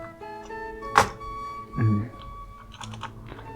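A computer keyboard gives a few scattered keystrokes with one hard, heavy thunk and a duller knock, all close by over a steady electrical hum.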